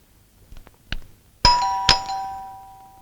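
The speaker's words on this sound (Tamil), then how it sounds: "மேரி காலிங் பெல் அடிக்குது" An electronic doorbell rings in a comedy film, giving two clear ding-dong chimes after a few faint knocks or clicks. The second tone rings out and decays, loud and close, with no talking during the ring.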